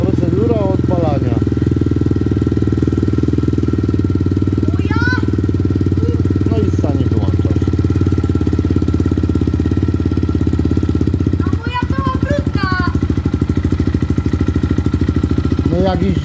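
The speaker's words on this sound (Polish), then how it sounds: "Jak ja się nauczyłem mojego Triala odpalać. To? Procedura odpalania." A Husqvarna trial motorcycle engine clatters loudly in a fast, steady idle after starting, with a brief dip and then a throttle blip, while someone speaks over it.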